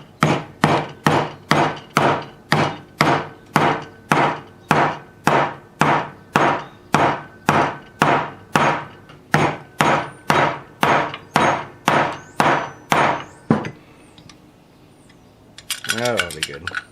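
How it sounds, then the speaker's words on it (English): A rubber mallet hammers a gas cap onto an Opel GT in a steady run of about twenty-five loud, evenly spaced blows, then stops, followed by a short clatter. "try to press it or hammer it with a rubber mallet"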